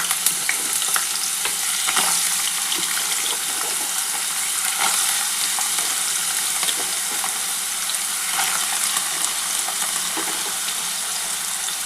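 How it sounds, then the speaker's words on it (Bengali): Potatoes fry in hot oil in a wok, with a little salt and turmeric, making a loud continuous crackling sizzle scattered with sharp pops and scraping stir clicks over about twelve seconds, with no talking. "তেলটা আমার গরম হয়ে গেছে, আমি প্রথমে আলুগুলো ভেজে তুলে নেব।"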